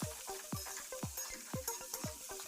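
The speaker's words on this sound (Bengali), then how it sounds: "পনির ভেজে তুলে নেওয়ার পর ওই তেলের মধ্যে আমি সবজি ভাজবো" Cauliflower and carrot fry in the oil left from frying paneer, a soft, faint sizzle broken by regular scraping stirs roughly twice a second, with no voices.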